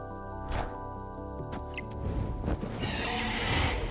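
A horse neighs and whinnies in the Marvel Snap video game, a bright, harmonic whinny over game music and effects, followed by brief clip-clop sounds and a swelling burst.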